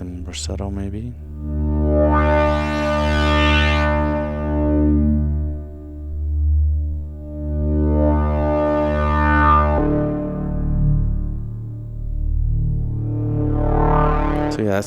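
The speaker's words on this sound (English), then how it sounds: "that's the slowly morphing bandpass" A sustained synth tone whose bright filtered band sweeps slowly up and down, rising and falling in waves over a steady low drone, with no talking.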